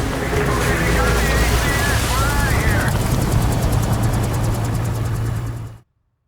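Helicopter rotor and engine drone from a Call of Duty: Modern Warfare II Remastered mission, steady and loud with a low throbbing pulse, while voices talk over it before it cuts out abruptly.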